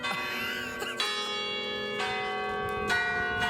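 Church bells ring at noon high above Stockholm, loud and close, with strong sustained tolling strokes and a tuneful sequence around them, heard alone without talk.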